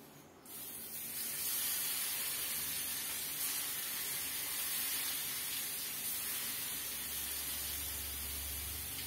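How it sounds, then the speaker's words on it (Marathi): Spiced Kerala-style prawns sizzle in hot oil, a loud steady hiss that bursts in at once and carries on evenly and close, with no speech over it. "आता फ्राय करायला घेऊया."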